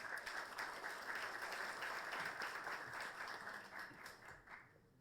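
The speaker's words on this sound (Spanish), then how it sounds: "Con el aplauso de todos." Audience applause at a Peruvian government presentation of the Lima–Ica railway project, steady full clapping from a hall that tapers off near the end.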